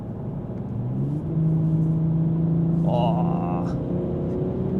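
A BMW G42 M240i fitted with an Akrapovic exhaust and a 200-cell downpipe gives a steady, loud engine drone that swells and holds, with a brief spoken exclamation partway through.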